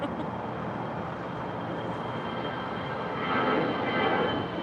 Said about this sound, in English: here's an A320 belonging to Alaska Airlines